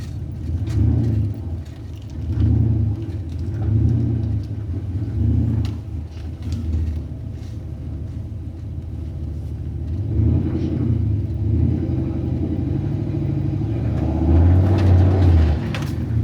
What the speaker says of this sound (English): Literally first gear just did a burnout in the driveway.